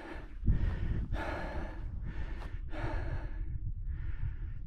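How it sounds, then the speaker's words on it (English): Heavy, labored breathing of a hiker climbing a steep mountain trail up Fløya near Tromsø, Norway; loud close gasping inhales and exhales in an uneven rhythm, alone without talk. "Sorry about the heavy breathing."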